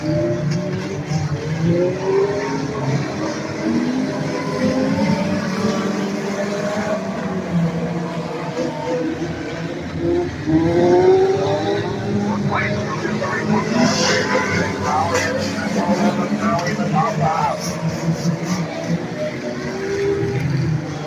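Race car engines drone continuously at high speed on an oval track during an enduro race, rising and falling as cars pass, with a commentator talking over the roar.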